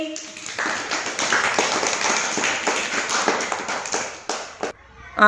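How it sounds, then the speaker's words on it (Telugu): A group of children claps together in a classroom, a loud, rapid, fairly steady burst of applause lasting a few seconds, with an adult voice briefly speaking around it. "క్లాప్స్ కొట్టండి"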